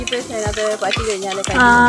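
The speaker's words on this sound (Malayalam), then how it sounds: "കടുക് പൊട്ടുന്നുണ്ട്." Mustard seeds pop and crackle in hot oil while pork roast is prepared, sharp little bursts heard beneath and between nearby voices and some tonal background sound.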